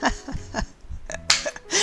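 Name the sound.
person imitating a sneeze during yoga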